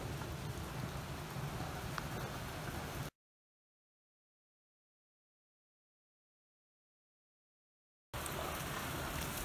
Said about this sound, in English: It's starting to rain again now.